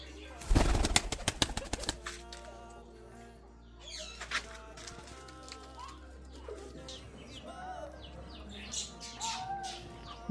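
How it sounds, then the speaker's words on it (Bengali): Pigeons released into the air: a loud burst of rapid wing flapping at the start, then soft cooing and chirps from nearby birds, with some talking in the background. "তো এই হলো মাদি কবুতরটা"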